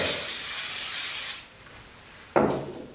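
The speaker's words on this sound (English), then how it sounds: "Get yourself a can of spray adhesive and give it a good spray." A can of spray adhesive hisses in one long, steady blast, stops, then gives a short second burst, close and fairly loud with no talking.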